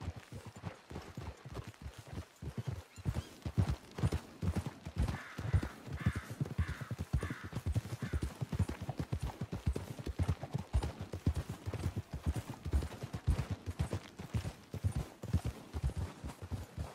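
Horses trotting with steady, rhythmic hoofbeats in Red Dead Redemption 2, clip-clop continuing evenly and fairly close throughout with faint background ambience.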